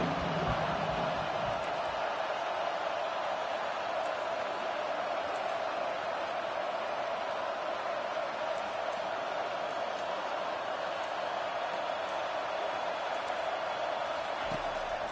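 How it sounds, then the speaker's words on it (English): A football stadium crowd roars steadily behind the defense on third down, a dense continuous wall of noise that stays loud and unbroken throughout. "Decibels rising as the crowd gets behind this defense on third down."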